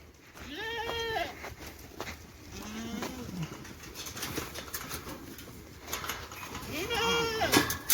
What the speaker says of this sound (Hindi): ये हमारा बकरी और भेड़ है।